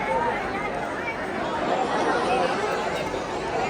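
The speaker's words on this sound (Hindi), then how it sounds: "देखो इतनी भीड़ है आज" Dense crowd chatter at a packed temple on Amavasya, a steady babble of many voices close by with no single speaker standing out.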